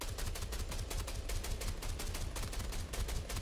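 Rapid video game gunfire, a steady stream of sharp shots in quick bursts, fairly faint and even, with no talk over it.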